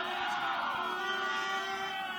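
A large crowd of cycling fans lining Old Willunga Hill during the Tour's decisive stage cheers and shouts continuously, a dense wash of voices at moderate distance.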